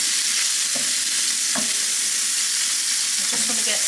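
Prawns fry in a pan for a coconut curry, giving a steady broadband sizzle with a few soft stirring knocks scattered through, close and fairly loud, no talking.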